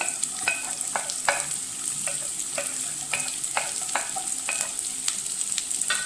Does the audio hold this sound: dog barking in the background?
no